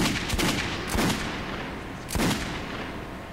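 A few gunshots in the Metro 2033 game, three separate sharp bursts spaced over a few seconds, set against a steady noisy background with no talking.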